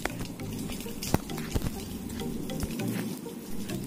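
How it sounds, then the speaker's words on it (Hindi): Heavy monsoon rain pours down in Phalodi, a steady dense patter of drops hitting ground and puddles throughout, with a few sharper close splashes and no voices. "फलोदी वासियों के लिए इसे मूसलाधार बारिश कह सकते हैं"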